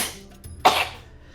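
A single short, sharp sneeze bursts out once, fairly close, after a brief quiet moment.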